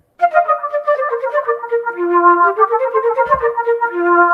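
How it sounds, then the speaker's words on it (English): Solo flute playing a short legato melody, clear and close with steady sustained tones that step between pitches, alone without talk apart from a brief low bump midway. "So here's the sound of the flute."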